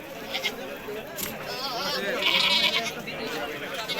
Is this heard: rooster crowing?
no